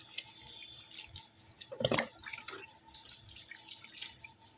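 Water is poured from a tap or jug onto rose plants, a burst of splashing and trickling in the middle of a quiet garden scene, with faint dripping before and after.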